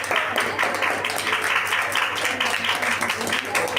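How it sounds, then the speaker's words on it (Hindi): Sustained, fairly loud applause from the audience at a ceremony honouring a guest with a shawl at a Blind Persons Association event for Louis Braille's birth anniversary, steady and dense throughout. "तालियां चलती रहे।"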